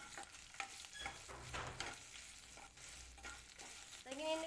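Garlic paste, coriander and curry leaves sizzle faintly in a pan, with soft scraping stirs and crackles running steadily throughout while ivy gourd stir-fry is prepared.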